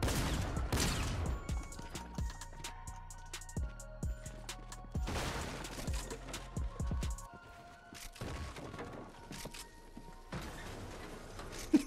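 Fortnite gunfire rings out in sharp bursts, with clusters of rapid shots followed by short pauses and then more volleys, all fairly loud against the game's background ambience.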